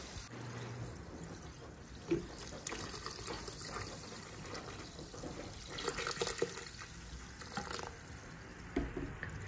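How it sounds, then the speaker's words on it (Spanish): Water pours into a blender jar for a soda lemonade, a steady close splashing trickle for several seconds with a few louder gurgles and clinks, no one speaking. "Y complementamos con un poquito de agua."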